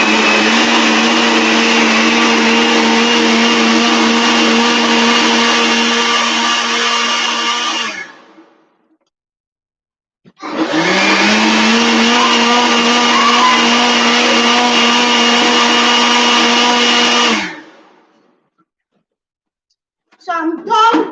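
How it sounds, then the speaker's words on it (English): A blender purees tomatoes with added water for a red stew, running loud and steady for about eight seconds, stopping briefly, then whirring again for another seven seconds before a short final burst. "I'm going to add some water to it while I'm blending. I'm not blending it dry."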